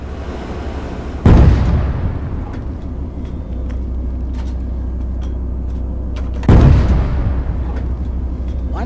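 105mm cannon of the M2A4 Slammer UP tank in Arma 3 fires twice, each shot a loud, deep boom that rolls off slowly over a steady low engine rumble.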